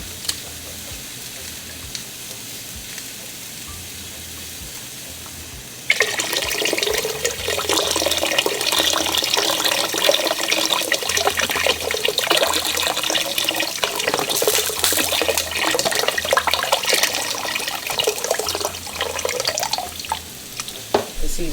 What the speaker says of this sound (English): I'm gonna go ahead and pour in some unsalted beef broth.